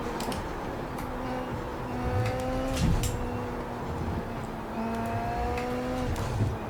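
A Super Formula race car in the iRacing game runs its engine around Circuit of The Americas, a steady, fairly quiet droning whine that shifts pitch through gear changes, with no talk.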